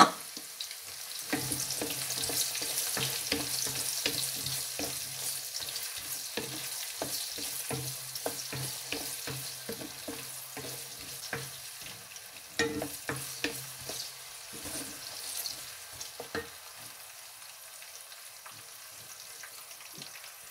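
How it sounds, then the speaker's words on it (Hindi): Chopped onion frying in oil in a pan while being stirred, a continuous sizzle with repeated scraping strokes of a spoon, close and clear, fading toward the end; no talking. "ये जो मैंने प्याज रखा है, हल्का सा इसको ब्राउन करेंगे।"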